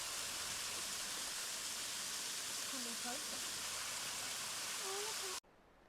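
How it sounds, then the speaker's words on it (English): Cedar Creek Falls in the Whitsundays, water cascading over a rocky cliff into a freshwater pool, a steady broad rushing roar, with faint voices and chirps over it before it cuts off abruptly. "the water cascades over the rocky cliff into a beautiful freshwater"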